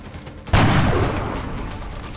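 A single loud gunshot blast in the XCOM: Enemy Unknown strategy game, a sharp sudden crack at close range followed by a long rumbling decay and reverberant tail.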